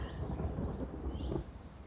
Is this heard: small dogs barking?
no